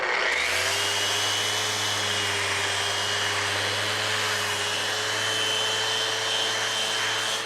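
Power sander running on a wooden shutter with worn sandpaper, starting up and then holding a loud, steady whine and hiss close by.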